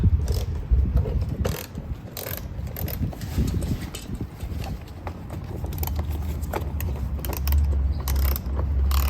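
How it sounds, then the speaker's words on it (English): A ratchet tool removes screws in a steady run of close, loud clicking and ratcheting strokes over a low background hum, continuing throughout with no talk. "we'll get to these screws down here and remove it"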